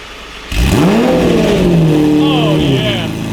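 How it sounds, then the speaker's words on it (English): A Lamborghini Murcielago engine fires up abruptly and loud, then revs in rising and falling sweeps that hold a strong, steady roar close by. "It's been so long since I've heard a Mercy start."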